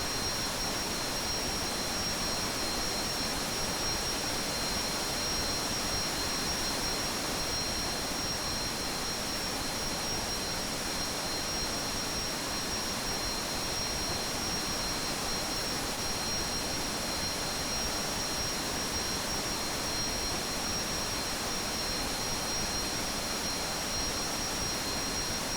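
A Learjet's jet engines roar steadily in flight in the Aerofly FS2 simulator, a dense, unbroken broadband hiss with a faint high whine, constant and alone throughout.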